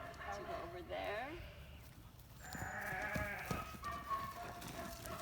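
A sheep bleats a couple of times at moderate distance, with farmyard noise around it and people talking nearby.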